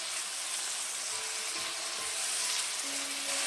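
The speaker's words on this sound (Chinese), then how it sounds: "翻炒均匀，使食材入味" Tofu filling seasoned with pepper, salt, soy sauce and sesame oil sizzles steadily in a hot wok, with faint scraping from the stirring spatula under a continuous bright crackle.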